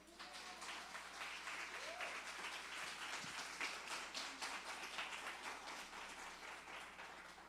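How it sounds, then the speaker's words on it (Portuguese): A church congregation of women applauds steadily, many hands clapping in an even wash for several seconds with a faint low hum beneath and no speech over it. "Eu queria que você desse um aplauso para isso"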